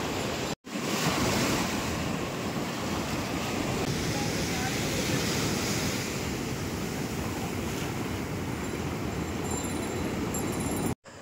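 Sea waves breaking at Swargadwar beach in Puri, a continuous loud roar of surf with wind buffeting the microphone, broken by two brief dropouts.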